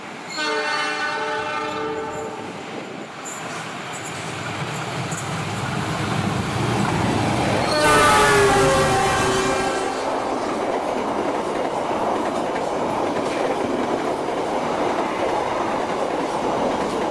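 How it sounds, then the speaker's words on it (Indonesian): Indonesian Argo Parahyangan additional train 50F rolling past close by, sounding its horn at the start and again mid-pass over a loud, continuous rumble of wheels and cars. "Lalu ini kereta api Argo Parahyangan tambahan 50F."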